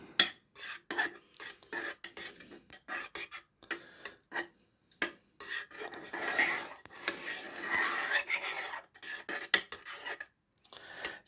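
A utensil scrapes and rubs through tikka masala curry sauce in a pan, making rasping strokes in uneven bursts with brief pauses, close but fairly quiet, and no voices.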